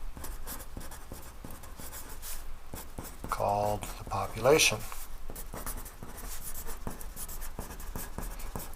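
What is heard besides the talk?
writing with a pencil on paper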